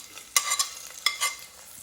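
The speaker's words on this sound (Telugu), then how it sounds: "ఉల్లిగడ్డలు వేగుతున్నప్పుడు" Chopped onions frying in a pan with a little oil for a moong dal tomato dish, with a soft steady sizzle and a few sharp stirring clatters of a spoon against the pan.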